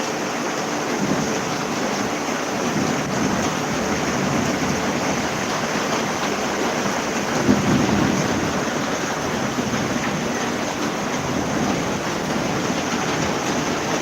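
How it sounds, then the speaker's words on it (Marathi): Heavy monsoon rain in Titwala, a steady, dense roar of downpour that holds evenly throughout with no voices. "पाऊस भरपूर लागतोय बघायला या म्हणून"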